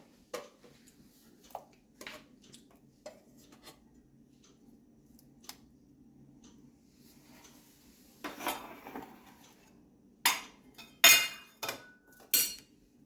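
Scattered soft clinks and knocks of a metal pot being handled as mackerel are placed in it, quiet at first, then a few louder clattering thuds near the end.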